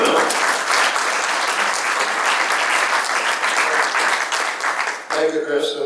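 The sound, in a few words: audience applause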